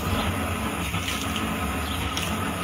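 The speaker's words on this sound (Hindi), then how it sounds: "तो मैं इसमें पानी डालूंगा" Water pours steadily onto a domestic LPG gas cylinder that is on fire, giving a continuous broadband rushing and splashing that stays loud and even throughout with no talk.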